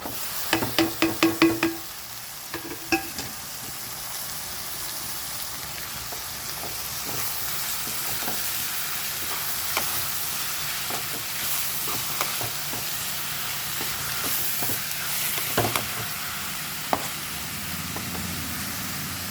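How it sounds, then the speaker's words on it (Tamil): Washed dried anchovies sauté with onions in a pan, with a soft continuous sizzle. A burst of sharp knocking and scraping comes early, then scattered utensil taps over the low frying hiss, and no one speaks. "இது நல்லா வதங்கி வரணும்."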